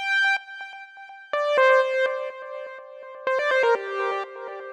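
Bright, sustained synthesizer chords shift through a short progression, each chord entering with a firm attack and ringing out, loud and clean with no voices.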